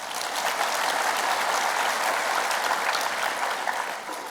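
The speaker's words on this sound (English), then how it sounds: "Let's clap hands for them." Dense, steady applause from a convention audience during a presidential address fills the whole stretch, close and loud with no pauses.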